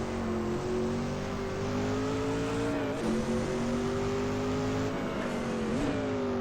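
A Group C race car engine in a sim racing game roars steadily at high revs, its pitch climbing slowly then dipping sharply at shifts around a few points, loud and unbroken with no voices.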